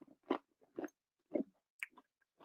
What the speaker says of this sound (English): I have to take a bite right in front of you so that you believe me